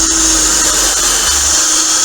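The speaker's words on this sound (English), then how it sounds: "I just need to drill 2 holes really" A power drill bores holes into a piece of wood, a loud continuous high-pitched whine with a steady motor tone close by, unbroken for the full stretch.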